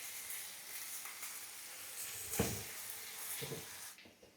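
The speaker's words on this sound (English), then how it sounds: "First, we'll cook the potatoes for a few minutes." Potatoes cook in a hot pan with salt for aloo jeera, giving a soft, continuous sizzle with a brief clatter midway and a quieter tail at the end.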